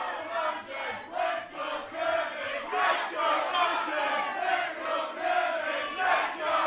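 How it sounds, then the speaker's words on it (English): A British wrestling crowd trades loud, rhythmic dueling chants, the packed audience's voices rising and falling in a steady repeated cadence throughout. "And you hear dueling chants here. Let's go London, let's go Kirby."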